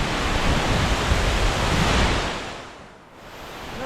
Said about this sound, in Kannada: ನೋಡಿ ಕೆಳಗೆ ಧುಮ್ಮುಕ್ತಾ ಇರುವ ಫಾಲ್ಸ್